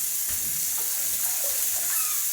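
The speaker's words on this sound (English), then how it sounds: "So now she's rinsing them properly in warm water, plain water" Warm water runs steadily from a tap with soft splashing as baby toys are rinsed, close and continuous, with no talking.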